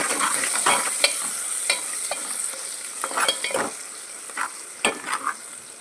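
Onions fry in a pan with salt and turmeric, giving a steady close sizzle broken by repeated scraping strokes of a spoon stirring against the pan.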